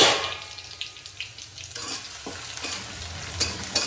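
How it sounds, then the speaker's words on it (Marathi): Garlic and chilli sauté in onion-flavoured oil for methi bhaji, a continuous moderate sizzle broken by several sharp stirring scrapes and clicks of a spatula against the pan. "आपण लसूण आणि मिरची जरा परतून घेऊया कांद्याच्या तेलामध्ये"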